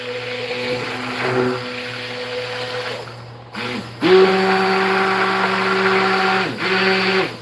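A blender whirs in short pulses through soap base tinted with red colorant, its steady motor drone stopping briefly and restarting louder, close by with no talk over it.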